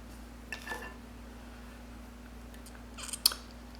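Scissors trim a piece of clay on a small ceramic fly sculpture, giving two brief, close snips about two and a half seconds apart, the second one sharper, over a faint steady hum.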